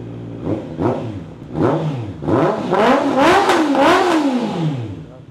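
Honda CB650R motorcycle with an aftermarket exhaust on a 2024 E-Clutch model, revved in a series of rising throttle blips that grow longer and louder, close up with no talking.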